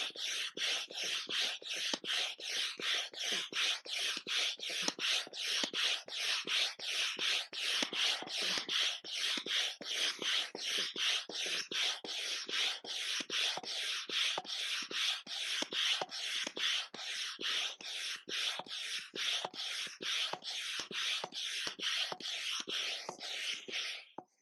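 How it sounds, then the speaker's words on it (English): A pole slides into the beam sleeve of an Outwell Moonhill air tent with a long, continuous run of rapid, rhythmic rubbing and scraping of fabric, close and fairly quiet throughout. "It's just a simple case of inserting one pole and then just pegging and going out."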